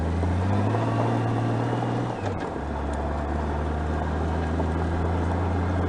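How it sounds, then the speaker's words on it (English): A custom-built Endeavor trike drives along a rustic road, its engine giving a steady loud drone with a low hum that dips briefly partway through and then carries on unbroken. "If you're wondering about the trike I'm driving, this is a trike that I designed and built"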